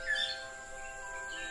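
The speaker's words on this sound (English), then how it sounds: "The rare Sri Lankan blue magpie." A Sri Lankan blue magpie calls with a few high, bright chirps near the start, then settles into a steady forest hum of tonal insect or bird drone.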